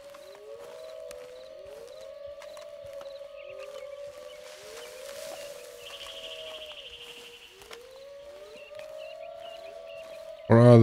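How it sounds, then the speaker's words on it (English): Wolves howl in Red Dead Redemption 2, several long gliding howls overlapping one another in a steady chorus, with a higher tonal whine partway through and a sudden loud thump at the very end. "What are all these wolves?"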